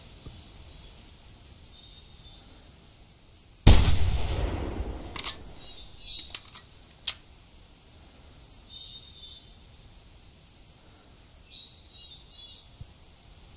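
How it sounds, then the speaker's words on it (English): A single loud rifle shot fired through a treestand mat in theHunter hunting game, a sharp crack with a rolling, fading tail, followed by a few faint clicks, all over steady night cricket and insect chirping with no talk. "You can shoot straight through the mat."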